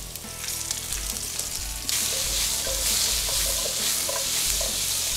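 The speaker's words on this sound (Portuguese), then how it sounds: "Vamos deixar essa cebola caramelizar um pouco." Onion frying with browned bacon in a pan, a dense close sizzle that jumps louder partway through as the onion hits the fat, with a few faint stirring knocks and no talk.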